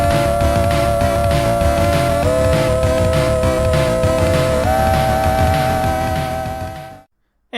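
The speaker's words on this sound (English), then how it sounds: "what you just heard was the intro music drop for the new recurring" A podcast segment intro music drop, a loud, dense electronic track with a steady pulsing beat and a sustained lead tone that fades out abruptly near the end.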